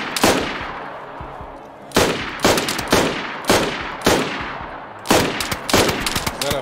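Gunfire in the video game DayZ aimed at the player: several sharp, loud shots and short bursts at irregular intervals, each with a decaying echo tail, with no talk over them.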